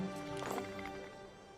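Horse hooves clip-clop through a bustling Roman market day in the strategy game Anno 117: Pax Romana, a short, soft run of hoofbeats set against steady background game ambience with a faint whinny.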